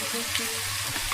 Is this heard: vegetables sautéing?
yes